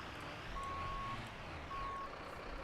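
A fire truck in the emergency game Notruf 112 sounds its reversing alarm while backing into a parking spot: two long, steady electronic beeps separated by a short pause, over a low idling engine rumble.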